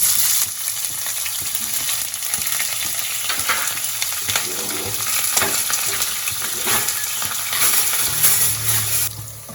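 Onions and green chillies for mutton biryani frying in hot oil, a steady close sizzle with repeated stirring scrapes and clatter throughout.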